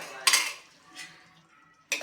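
Metal spoon scraping and clinking against a pot while boiled green peas are mixed into street-style pav bhaji, three brief knocks, close and fairly quiet with near silence between them.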